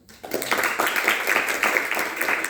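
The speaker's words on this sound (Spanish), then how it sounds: "De un aplauso a Cristo, hermanos." Congregation applauding during an evening church service, a dense wash of many hands clapping that starts after a brief quiet moment and keeps going steadily, with some voices mixed in.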